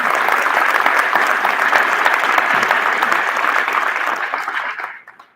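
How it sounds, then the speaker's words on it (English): A school crowd at a high school athletic hall of fame and sports recognition night gives a round of applause, dense and sustained for about four seconds, then fading out quickly to near silence. "So please give those ladies a round of applause."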